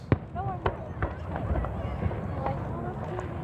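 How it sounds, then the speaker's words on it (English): A July Fourth-eve fireworks display over downtown Davenport, Iowa, heard from a distance as scattered pops and bursts with faint whistling, over a murmuring crowd background. "And here's the fireworks."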